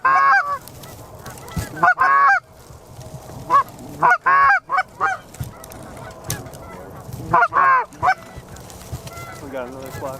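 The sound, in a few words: flock of geese honking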